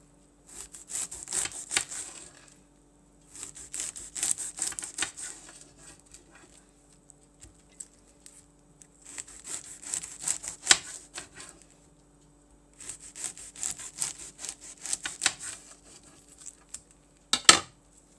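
Knife slicing collard greens into half-inch strips on a cutting board, bursts of crisp rhythmic cuts separated by short pauses, close and fairly clear, ending with a sharper chop.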